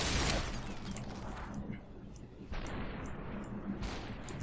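Gunfire in the SUPERHOT video game on PC, heard as two heavy booming blasts that each decay slowly, dense and loud in the game's mix.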